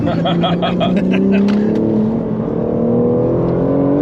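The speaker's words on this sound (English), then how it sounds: "Let the car roll a little bit in the center because the exit's very unusual, and then back to power." On a race track a car's engine winds steadily upward in pitch as it accelerates out of a corner, a loud, close, sustained engine note.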